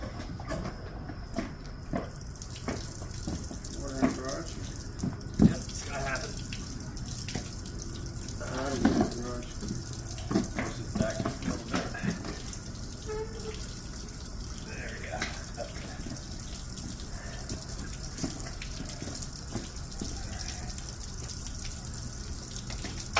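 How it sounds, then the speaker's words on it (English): Water runs steadily from a hose, flushing a 1978 Mercury 115 HP inline-six outboard on a workbench setup, a continuous low wash with scattered clanks and knocks over it, no engine running yet. "water coming on."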